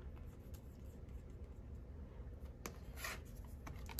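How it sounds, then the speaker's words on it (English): A 0.5 mm felt-tip pen writes on planner inserts, its faint dry scratching strokes running steadily under a quiet background hiss, with one slightly louder scrape near the end. "it writes so nicely on these inserts"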